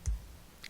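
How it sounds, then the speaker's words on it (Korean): A single short mouse click on a completion button, one soft close tick followed by quiet. "완료 단추 클릭"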